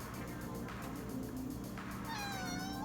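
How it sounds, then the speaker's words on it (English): A cat meows a few times, faint and somewhat distant, against a low background hum. "You may hear our cat in the background."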